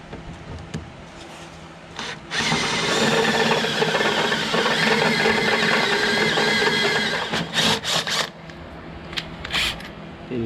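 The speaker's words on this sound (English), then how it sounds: "First pilot hole. We only want to go to a 10 mil." A drill with a stepped Christmas-tree bit bores a 10 mm pilot hole while fitting a chute system to a Bushranger mower, giving a loud, steady grinding whir for several seconds, with short bursts before and after.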